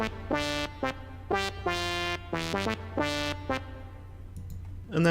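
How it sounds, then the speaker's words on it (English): A low analog-style synth plays the main melody an octave down, a run of short buzzy notes with brief gaps, fading into a quiet tail before a sudden louder burst at the end. "we have this low analog one that sounds very similar"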